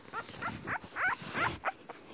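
Two-week-old English Bulldog puppy giving a string of about seven short squeaky whimpers and grunts in quick succession, close and faint.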